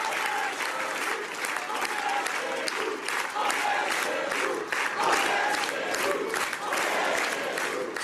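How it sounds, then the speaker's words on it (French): A large crowd at a French political event chants "On est chez nous" in loud rhythmic bursts, a dense, steady roar of voices with clapping throughout. "On est chez nous, crié par la foule face à vous."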